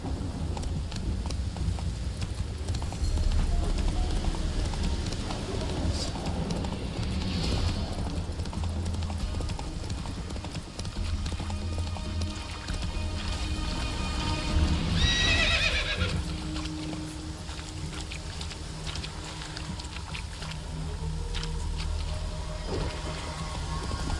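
Roach, a horse in The Witcher 3, gallops with steady rapid hoofbeats and gives a loud neigh midway, over continuous game ambience and music.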